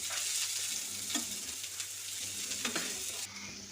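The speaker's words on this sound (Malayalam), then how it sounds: "പച്ചമുളക് ഇട്ട ഉടനെ തന്നെ നമുക്ക് വഴറ്റി കൊടുക്കാം" Green chillies sauté in a hot pan for a clam meat (kakka erachi) dish, giving a steady close sizzle and hiss with soft scraping stirs throughout.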